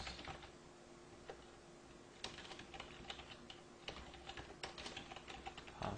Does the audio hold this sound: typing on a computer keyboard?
yes